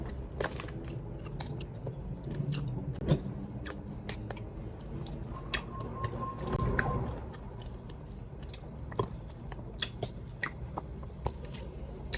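Close-up chewing and biting of sour food, wet crunches and squishy mouth sounds repeating irregularly, with no one talking.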